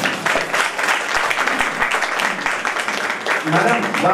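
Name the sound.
audience applause honouring committee members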